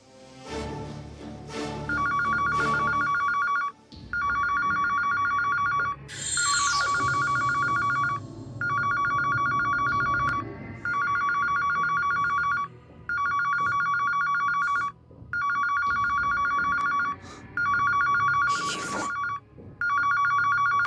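A telephone bell rings loudly in repeated bursts, each lasting about two seconds with brief gaps, over a faint murmur of background sound.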